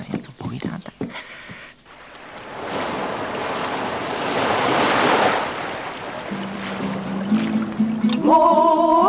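Sea waves roar as a broad, loud wash of surf swells through the middle and then recedes. Brief voices come before it, and musical tones rise at the end.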